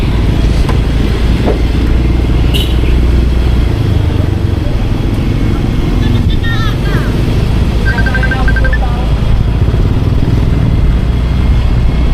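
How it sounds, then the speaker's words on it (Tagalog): Steady road traffic with many cars passing, heard from a moving motorcycle, a constant loud rumble and wind roar with a brief high horn or beep partway through. "Dami ng kotse."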